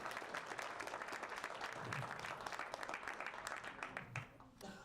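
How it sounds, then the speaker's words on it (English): Applause from a conference audience at SXSW 2024, a dense steady clatter of many hands at moderate distance, fading out near the end. "please, a round of applause for everyone I just named"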